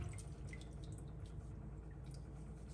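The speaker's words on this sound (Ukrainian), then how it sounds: "Обов'язково ми її зараз будемо мити у фільтрованій воді." Salmon being rinsed under filtered water, a steady close trickle and drip of running water with faint splashes, no talking.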